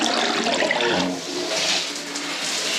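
A toilet flushes in a bathroom, a loud close rush of water that swells and then settles into a steady refilling hiss, with no voices.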